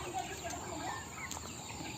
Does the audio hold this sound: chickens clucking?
yes